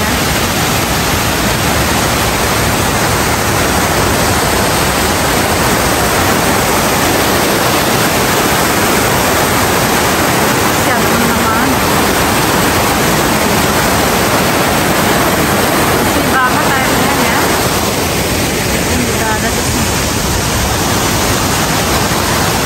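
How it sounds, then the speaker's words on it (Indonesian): Steady broadband roar of a waterfall at a dam lake in Switzerland, loud and continuous throughout with no voices. "Jadi ya, seperti ini ya air terjunnya ya"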